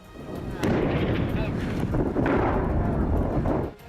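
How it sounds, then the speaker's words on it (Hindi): Artillery bombardment and gunfire in a Yemen combat report, where soldiers shell Houthi rebel positions in sandy, deserted terrain: loud sustained booming blasts and crackling shots, close and dense, with narration partly beneath. "उनमें सेना के जवान हुती विद्रोहियों पर तोपों से बमबारी करते नजर आए। उस रेतीले और वीरान इलाके में इतनी गोलियां और बम दागे गए कि पूरा इलाका दहल उठा।"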